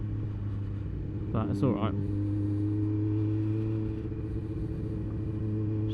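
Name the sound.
motorcycle riding along a bumpy farmer's lane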